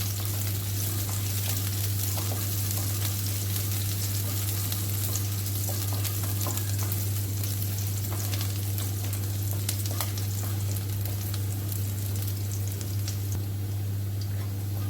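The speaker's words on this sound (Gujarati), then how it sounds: "થોડાક સાંતળી લઈશું લસણ મરચાં" Garlic and chillies sauté in a pan for masala pasta, a dense continuous sizzle with fine crackling and a steady low hum beneath, constant and fairly loud throughout.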